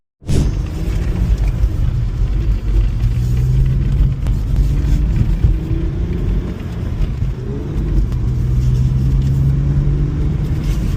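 A BMW M2 drives with a steady, loud engine rumble and continuous road roar, close and unbroken for the whole stretch.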